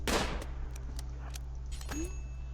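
Gunfire in RimWorld gives a few sharp, close shots: a loud crack at the start, then several lighter pops and a ringing ping near the end over a low steady hum.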